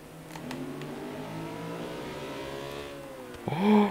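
An unpainted car in the racing game Forza Horizon 3 revs in second gear, the engine note climbing steadily and smoothly before a sharp gear-change blip and a louder rise at the end, with no talk over it.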